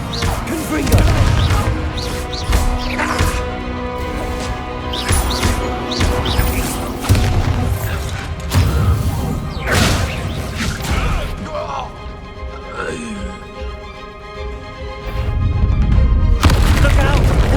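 Repeated booming Confringo fire-spell explosions erupt during a Hogwarts Legacy battle, a rapid string of loud crashing blasts and impacts over busy combat noise, with voices shouting in places.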